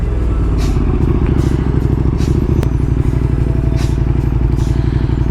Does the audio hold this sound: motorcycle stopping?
yes